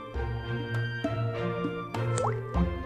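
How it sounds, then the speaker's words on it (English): Rice vinegar is splashed onto a bowl of seasoned noodles, giving a few close, soft drips and wet plops over about three seconds. "The final step is adding rice vinegar."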